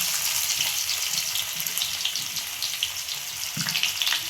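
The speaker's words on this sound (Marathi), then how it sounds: "तेल टाकून थोडी जिरी मोहरी पण टाकन घ्यायची" Cumin and mustard seeds frying in hot oil, a continuous crackling, spattering hiss close by, with a low knock near the end and no talk.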